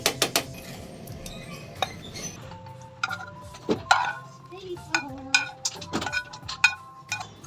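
A utensil stirs food with onions in a metal cooking pot, clinking and scraping in irregular taps and clatters up close, with a few brief sounds of a voice.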